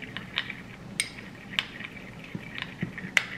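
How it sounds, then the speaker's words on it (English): Oxtail sauce and cornstarch are mixed in a bowl with a utensil. Light rhythmic clinks and taps ring out roughly twice a second over a soft, steady background, with no voices. "I'm gonna give this a good mix."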